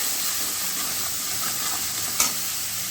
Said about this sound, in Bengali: এক করে হলুদের গুঁড়ো লবণ খুব ভালোভাবে কষাবো